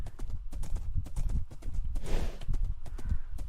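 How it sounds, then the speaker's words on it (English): A horse galloping down a highway in a video game, hooves pounding in a steady rapid rhythm, close and continuous, with faint background ambience. "Me running for 20 minutes down a highway on a horse"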